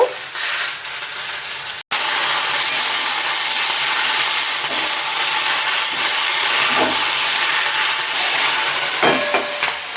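Onion, dried lentil dumplings, dried chilli and spices fry in hot oil, giving a loud, steady sizzling hiss with occasional stirring scrapes after a brief break near the start.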